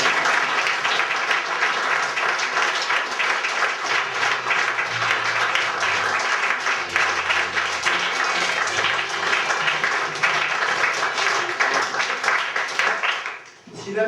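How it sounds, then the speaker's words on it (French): A theatre audience applauds at the close of a play, with steady, dense clapping filling the hall for over ten seconds before it fades abruptly. "je vous demanderai d'applaudir Régis"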